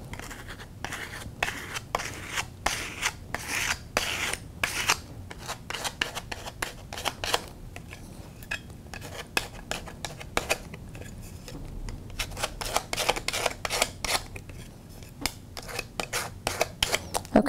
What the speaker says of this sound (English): I'm going to use the card this time to scrape off any loose bits.